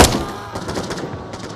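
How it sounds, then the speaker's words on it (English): Video game gunfire: a sharp, loud shot at the start, then further quick, punchy shots and thuds close together over a second and a half. "I just shot him in the head twice"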